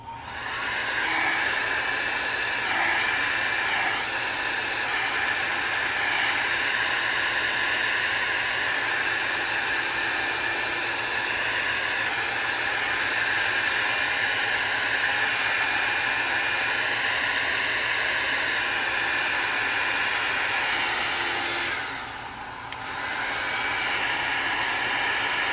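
A hair dryer blows steadily on alcohol ink artwork on Yupo paper, a loud, close, continuous rushing hiss that runs almost unbroken, with one brief dip near the end.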